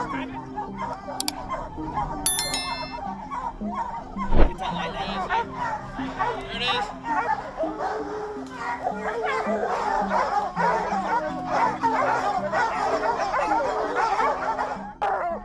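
Hunting dogs bark repeatedly during a bear hunt, a pack of barks and yips sustained throughout at moderate distance, with chatter and some laughter mixed in.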